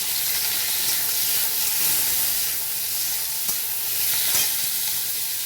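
Cubed onions fry in oil with chopped garlic and green chili for a chilli soybean dish, giving a loud, close, continuous sizzle and hiss with a few louder crackles and stirring scrapes, no talking.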